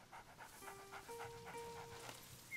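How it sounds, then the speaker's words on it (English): A big dog pants in the medieval video game A Plague Tale: Innocence, steady rhythmic breaths close by over soft sustained in-game tones. "That's a big dog."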